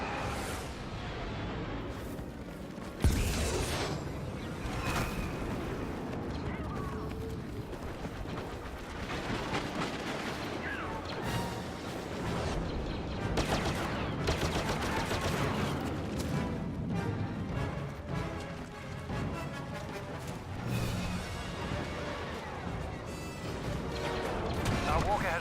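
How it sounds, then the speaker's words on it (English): Rebel bombers on an attack run in a Star Wars Battlefront skirmish on the Jundland Wastes, with a dense, continuous rumble of explosions and blasts, a sharp crash near the start, loud throughout with some game voice. "Rebel bombers are making their attack run."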